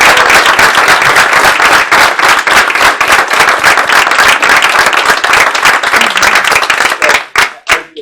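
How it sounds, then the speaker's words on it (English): An audience at a borough council meeting claps loudly and steadily for about seven seconds, honoring a marching band, before the applause thins into a few scattered claps. "Because you all deserve a big round of applause."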